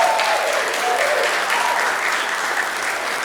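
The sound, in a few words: audience applause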